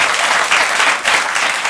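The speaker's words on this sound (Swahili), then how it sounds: "Wapi makofi ya Jalang'o?" Loud, close applause from a studio audience at a comedy show, a dense continuous wash of clapping swelling in gentle waves with no talk over it.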